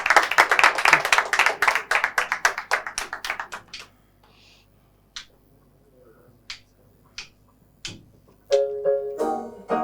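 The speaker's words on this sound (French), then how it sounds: "On applaudit" An audience at a Saturday stage show claps: quick, loud, evenly spaced hand claps for about four seconds, then sparse scattered claps with quiet gaps, and a brief tonal sound at the end.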